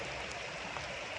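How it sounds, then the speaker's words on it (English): Steady rain pours outside a parked van, a dense, even hiss of falling water with no distinct drops standing out, constant and fairly close throughout the short stretch. "We're getting rained in."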